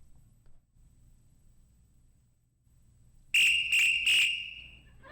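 Three sharp, loud blasts on a whistle sounding as an emergency signal for an earthquake drill, coming in quick succession after a quiet stretch.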